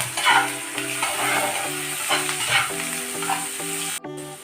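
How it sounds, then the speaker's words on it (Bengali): Sliced onion with a little salt fries in a pan in a home kitchen, a steady sizzle broken by scraping stirs, with a tonal background hum running underneath. "এটাকে বেশ লালচে করে কিন্তু ভেজে নেব"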